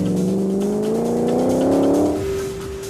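A Spyker C8 Spyder mid-engine V8 sports car revving loudly and close, its tone climbing steadily for about two seconds before dropping to a lower steady drone.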